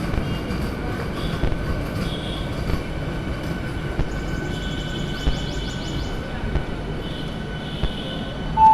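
Local electric train of the Sealdah–Krishnanagar line rumbling steadily past on railway tracks at a station, a dense continuous roar of wheels and carriages with faint high squeals, loud and close throughout with no talk.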